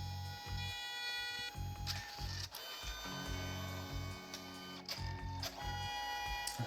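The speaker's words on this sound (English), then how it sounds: "It's printing yellow." A color printer works through a print job, its mechanism whirring and clunking in short repeated bursts with rhythmic carriage shuttling and occasional clicks, close by and moderately quiet.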